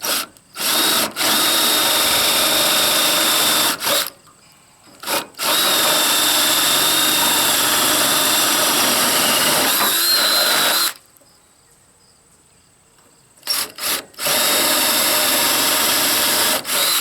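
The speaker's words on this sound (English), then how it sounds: "So I've got these two holes to drill yet." A power drill bores holes into the wooden deck of a heavy wood-hauling trailer, loud whirring bursts of several seconds each separated by short pauses and near silence.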